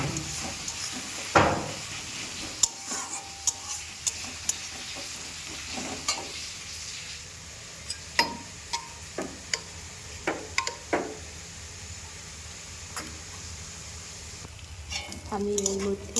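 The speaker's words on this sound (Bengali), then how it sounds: "দেখো এবার আমি ডিম ভাজা করে নিচ্ছি" Four eggs frying in a pan for an egg tadka, with a steady soft sizzle running throughout, punctuated by frequent sharp ticks and scrapes of stirring and utensils against the pan, close and moderately quiet.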